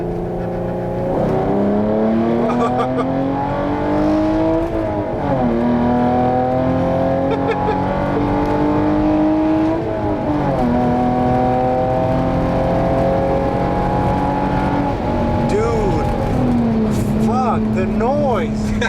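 Hyundai Genesis 3.8 R-Spec V6 engine pulling hard under full acceleration, a loud continuous roar rising in pitch through each gear with brief dips at the shifts, heard from inside the car with voices over it.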